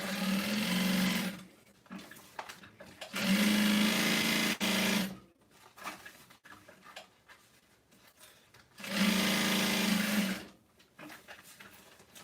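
A sewing machine stitches a tote bag shut in three loud, steady bursts, each lasting one to two seconds, separated by quieter pauses with faint handling sounds.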